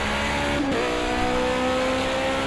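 Toyota TS050 race car with a twin turbo V6 engine in Project Cars 2, a steady loud engine drone with a brief dip and shift, then continuing at a constant high pitch, with no talk.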